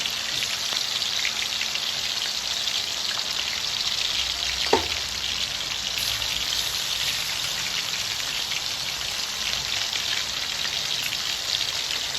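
Chicken pieces for a Kerala-style chicken roast shallow-fry in hot oil over a low flame, giving a close, steady, dense crackling sizzle that never lets up. A single brief clink of a utensil sounds midway, and no one speaks.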